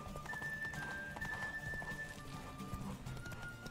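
A horse trots at an even clip-clop pace in The Witcher 3: Wild Hunt during a horse race, its hooves close and steady, with a whinny and a thin tone above the game's ambient sound.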